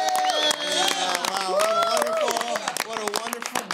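A small group of friends claps and cheers in a room, with whoops and excited voices mixed into steady, dense applause throughout.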